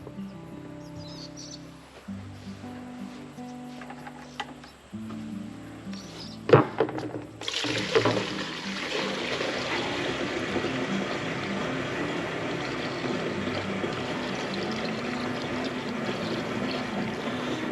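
AdBlue diesel exhaust fluid poured back through a funnel, a steady close-up pouring and trickling wash that starts after a few knocks and handling clunks and runs on continuously without talk.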